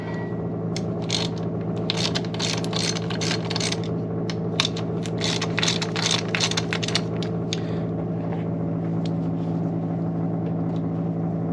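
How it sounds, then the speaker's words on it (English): Socket wrench ratchets rapidly in close, clicking bursts while working on a 1986–87 Buick Grand National, set over a constant low mechanical hum that continues after the clicking fades. "Then you're going to need to get your socket wrench and your socket, and we're going to need to pull this off."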